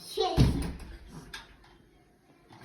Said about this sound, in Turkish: Güzelce kapat kapıyı anneciğim.